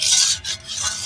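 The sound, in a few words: stirring koi fish curry after adding water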